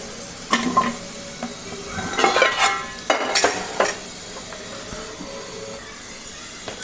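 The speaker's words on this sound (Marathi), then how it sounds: "थोडंसं गरम झालं ना मग लसूण, खोबरं हे सगळं त्याच्यात मिक्स करून घ्यायचं. परतवायचं छान." Garlic and grated coconut sautéed in hot oil: a low background sizzle broken by clustered bursts of spatula scraping and stirring against the pan, mostly in the first four seconds, then quieter frying.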